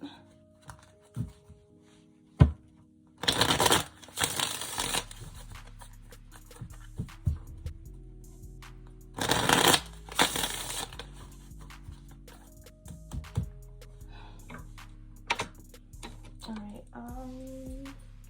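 Tarot card decks are shuffled in several loud bursts of riffling and clattering, with quieter card handling and taps in between.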